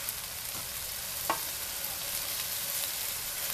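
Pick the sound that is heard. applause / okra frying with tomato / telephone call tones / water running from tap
okra frying with tomato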